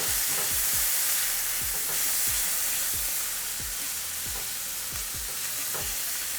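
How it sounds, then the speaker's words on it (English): Garlic sizzles in a pan as the base for vegan drunken noodles with tofu, a steady close frying hiss broken by regular scraping stir strokes, with no talking. "this is just gonna sizzle here for a couple of minutes"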